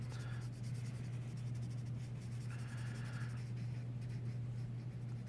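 A pencil scratches and rubs on paper while shading a nose drawing. The strokes are soft and continuous over a low steady hum, with no talking.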